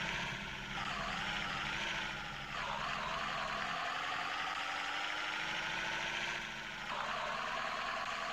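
A bus engine idles in Heavy Bus Simulator, a steady, fairly quiet mechanical drone with a gargling, rough tone that dips slightly in pitch a couple of times.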